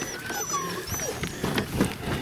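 A Greenland sled dog, father of a pup, gives short whimpering, whining calls up close in a quiet outdoor setting.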